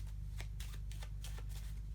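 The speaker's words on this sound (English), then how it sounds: "Now the spectator is going to shuffle these cards." A spectator shuffles a small packet of playing cards close by, giving a quick series of crisp riffling bursts over a low steady hum.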